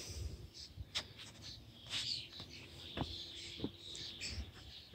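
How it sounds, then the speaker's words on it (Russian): Starlings chirping and squabbling around a garden pond in spring, faint scattered calls and squawks at a distance over quiet outdoor background. "Скворцы хулиганят, кормят своего потомства, шумят, бесятся, кругом летают, собирают червей"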